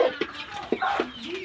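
Hens from a flock of fifteen on a small egg-laying farm cluck in short, close bursts, several calls tumbling over each other with a rising squawk at the end.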